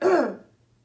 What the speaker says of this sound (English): I cough up as much as I can while he's here.